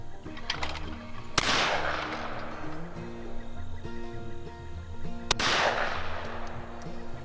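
Two sharp shotgun blasts crack out several seconds apart while shooting birds outdoors, each loud report trailing into a fading echo over a low background murmur.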